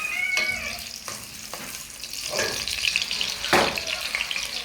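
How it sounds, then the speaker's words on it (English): Onion dropped into a hot pot for egusi soup sets off a sizzle, with stirring scrapes and bursts of frying hiss rising and falling over about five seconds, close and moderately loud with no talk. "So far I'll be adding my onion to the pot"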